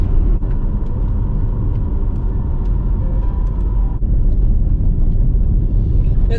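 A car rolls onto a gravel road on a highway route, with a loud steady low rumble of tyres and engine filling the interior, continuous and unbroken throughout.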